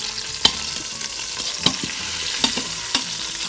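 Lamb shanks searing on saute in an Instant Pot give a steady close sizzle, broken by several sharp sputtering pops at irregular intervals.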